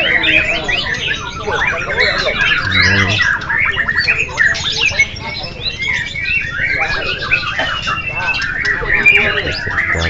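Many oriental magpie-robins sing and chatter loudly at once during a songbird singing contest, a dense overlapping chorus of whistles and trills, with people talking faintly underneath.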